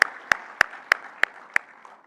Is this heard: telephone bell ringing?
no